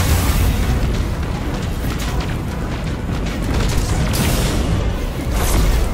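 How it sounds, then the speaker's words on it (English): Missile explosions in the video game Destiny 2 boom continuously, a dense, loud wall of rumbling blasts with no pauses and swelling bursts near the start and end. "Missiles!"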